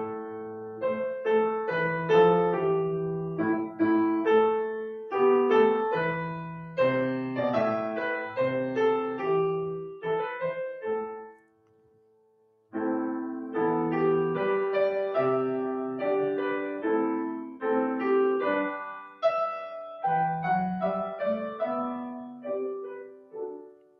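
The folk tune "Ballad of Captain Kidd" played as a solo instrumental melody with harmonized notes, moving in steady phrases with a brief pause near the middle before resuming, close and clear with no talking.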